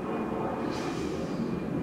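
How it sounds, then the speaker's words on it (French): Airplanes pass overhead as a steady, distant low roar of jet engines, a continuous rumble with a faint whine, heard alone without talking. "Ça me saoule, ces avions, ça me saoule."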